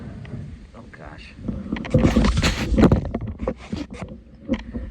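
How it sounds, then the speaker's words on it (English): A kayak hull scrapes and grinds over a rock in the middle of the boat on whitewater. There is steady rushing water and wind buffeting throughout, with bursts of scraping and knocking. "You go over a rock directly in the middle of the boat."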